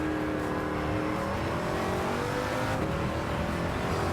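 A race car with two engines revs hard and accelerates in Gran Turismo 7, its engine note climbing steadily and staying loud and close throughout with no pauses.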